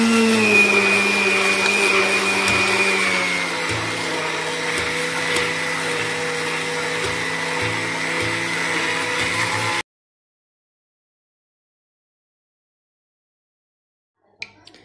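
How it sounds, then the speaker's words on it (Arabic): A kitchen blender pureeing cooked vegetable soup, a loud close motor whine that drops in pitch as it runs steadily for about ten seconds and then stops abruptly, followed by near silence. "راح نميكسيه باش يكون واجد معانا"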